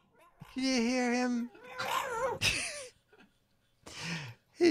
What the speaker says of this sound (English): Can you hear Charlie growling?